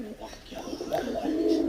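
A male Raj Golla pigeon coos in short throaty phrases, close and fairly soft, with a low background murmur.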